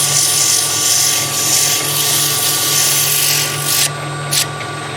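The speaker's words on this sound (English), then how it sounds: "One last final sanding before I part that off" Sandpaper is held against a spinning wooden top on a woodturning lathe, giving a loud, continuous whirring hiss that fades near the end.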